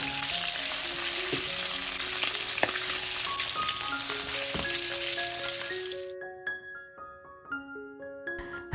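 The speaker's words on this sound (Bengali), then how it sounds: "উল্টে পাল্টে বেশ কুড়মুড়ে করে মাছের মাথাগুলোকে ভেজে নেব" Fish heads frying in hot oil until crisp, a steady, loud sizzling with occasional stirring clinks, fading into scattered pops and crackles near the end.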